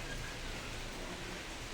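Steady rain falls outside on a winter evening, a soft continuous hiss with faint patter, even and fairly quiet throughout.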